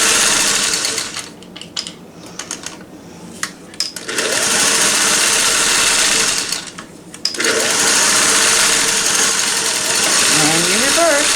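A Singer Touch & Sew 603E sewing machine runs a zigzag stitch in loud, close, sustained whirring bursts, pausing briefly between runs while a person talks.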